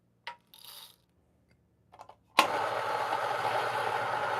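A Niche Duo 83mm single dose coffee grinder, preceded by a few small clicks and taps, then switching on into a loud, steady, hollow whirring grind that runs to the end.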